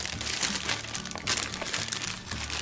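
Plastic bag crinkles and crunches up close in irregular bursts as small doll accessories and stickers are pulled out of their packaging, with no talking over it.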